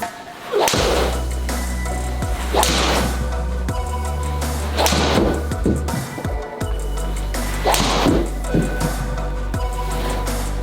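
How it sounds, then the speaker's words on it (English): A golf driver strikes balls at a practice session, about four sharp cracks of impact spaced a couple of seconds apart, each loud and close over a steady low hum. "So whilst Paul is smashing away there, getting some numbers"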